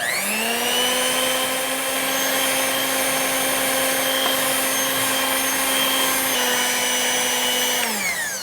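An electric mixer whirs steadily as it beats chilled cream with powdered sugar, holding one loud motor whine that dips briefly and winds down at the end.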